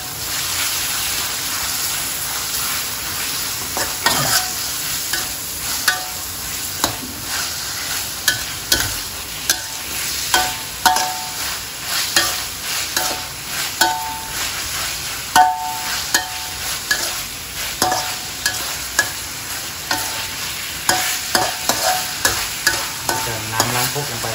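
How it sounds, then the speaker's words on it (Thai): Pork loin with fresh chili stir-fries in a pan: a loud, steady sizzle punctuated by frequent rhythmic clacks and scrapes of a spatula tossing the meat, with no talking. "หลังจากนั้นก็ผัดให้เข้ากันครับ"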